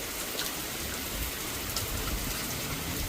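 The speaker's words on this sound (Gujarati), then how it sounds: "આ જો વરસાદ ફૂલ ચાલુ છે, હજુ 1 કલાકથી બંધ થયો નથી" Heavy rain pouring down steadily on a village farm during the monsoon, a dense continuous hiss of drops drumming on surfaces with no voices.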